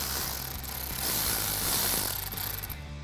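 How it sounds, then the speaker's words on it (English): A wrench works a nut loose from a bracket on a Toyota Tacoma, with a steady run of close ratcheting clicks and mechanical clatter lasting a few seconds. "take this nut off"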